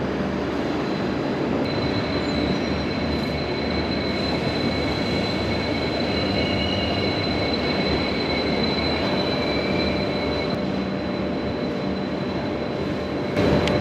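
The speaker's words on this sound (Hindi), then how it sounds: "हमारी ट्रेन ऑन टाइम डिपार्ट हो चुकी है धोने जंक्शन से।" Wainganga Express train pulling out of Dhone Junction, a loud, continuous rumble of rolling wagons with thin wheel squeals ringing over it, steady throughout with no talk.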